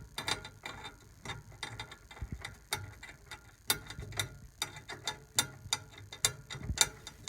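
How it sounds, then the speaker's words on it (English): Snare drum tension rods being threaded and finger-tightened into their lugs, a faint series of small metallic clicks and ticks in an irregular rhythm, close but quiet. "I usually like to finger tighten each tension rod as I'm putting them in"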